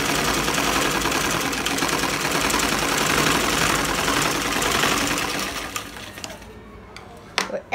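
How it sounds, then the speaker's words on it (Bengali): Sewing machine stitching a double seam along a salwar panel: a loud, close, rapid mechanical whir that runs steadily for about six seconds, then stops, leaving a few faint clicks. "তো এই সেলাইটা আমি ডাবল করে দিয়ে দিচ্ছি।"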